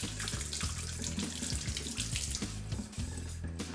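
A kitchen tap runs steadily into a sink while a tomato is rinsed under it, the water stream splashing and shifting as the tomato moves through it, close and continuous with no talking.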